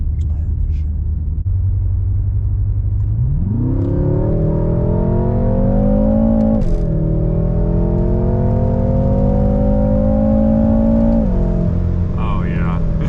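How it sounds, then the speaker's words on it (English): Stage 1 tuned F12 BMW M6 heard from inside, its engine droning low and then surging at full throttle after a kickdown, pitch climbing steadily through the revs with a shift blip midway, loud and close. "floor it and see how it kicks down and pulls through the rev range"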